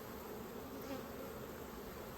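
Honeybees buzz around an open hive during an early-June colony check, a faint continuous drone with no clear individual passes.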